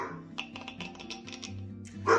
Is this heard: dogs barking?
yes